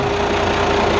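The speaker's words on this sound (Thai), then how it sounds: "นี่เสียงเครื่องนะครับ" A Toyota Hilux Rocky truck's heavy 270-horsepower engine idles with a steady low rumble and faint knocking, continuous and close, with no voices.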